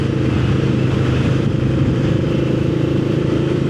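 A Yamaha VMAX 1700 motorcycle engine drones steadily during a ride, a loud, continuous low rumble with no breaks and no talking.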